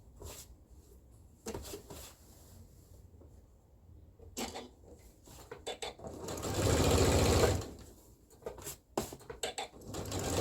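Sewing machine stitching a quarter-inch seam around fabric where gathering will go, whirring in several short bursts and one long sustained run near the microphone, with small handling clicks between stitches.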